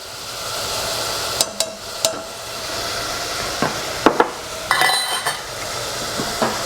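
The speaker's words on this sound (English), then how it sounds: "Now we're going to cook the onions until they become translucent." Onions cooking in a pan for cashew nut curry, a soft steady sizzle under a series of sharp metallic clinks and scrapes from a utensil against the pan, spaced irregularly.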